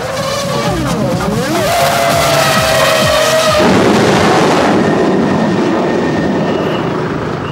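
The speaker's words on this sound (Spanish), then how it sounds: "Entre el ruido de los motores y los coches que pasan a toda velocidad por la pista, es imposible escuchar o hablar." Formula 1 race cars speed past on a track, their loud, high engine whines sweeping down in pitch as each car passes, then a rough roar trailing away.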